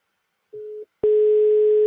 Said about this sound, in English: the tone is working. It's trying to reach me.